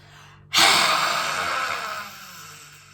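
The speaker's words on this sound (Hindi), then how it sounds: "सांस भरेंगे, फिर से सांस भरेंगे" A single deep breath drawn in during a seated breathing exercise for snoring and sleep apnea, a sudden close airy rush that starts strong and slowly fades over a couple of seconds, with no talk.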